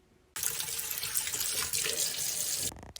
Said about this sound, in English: Now it's time to rinse the celery and the carrots and get them nice and clean.